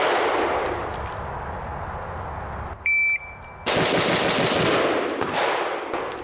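A Midwest Industries MI-10F rifle fires loud, sharp gunshots at a shooting range, one blast at the start, then a high electronic beep, then a quick string of cracking shots with echoing tails.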